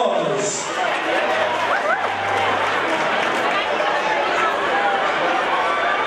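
At a graduation fashion show fundraiser, an audience gives a round of applause, a continuous loud crowd clapping mixed with cheering and chatter, and voices mingle throughout.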